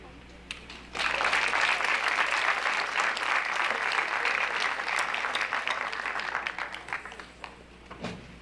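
A school awards ceremony audience applauds Pride and Promise Award student recipients, the clapping starting abruptly after a quiet moment, staying full and steady, then thinning out near the end.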